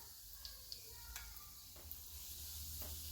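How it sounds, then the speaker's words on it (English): Scotch egg frying in oil on low-medium heat, giving a steady soft sizzle with a few faint pops and crackles, quiet and continuous throughout. "Just gently drop it in the oil on a low medium heat so that it will cook thoroughly."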